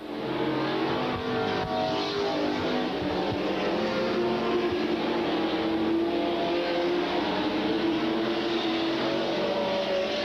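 Super stock race cars on a track during a 1993 Friday night race, a pack of engines droning loudly and continuously with rising and falling revs as the cars circle, no commentary audible over them.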